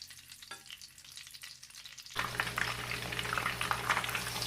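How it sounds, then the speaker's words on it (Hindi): Eggs frying golden in hot oil for a potato-loaded Scotch egg, a quiet lead-in suddenly giving way to a loud, steady, close sizzle that crackles on without a break. "Now fry all the eggs until they become right golden."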